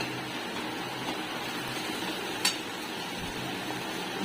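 Spice masala stir-fried in a pan as it cooks down until oil begins to separate: a steady, close sizzle and frying hiss with a brief sharp scrape of the spoon midway, no voices.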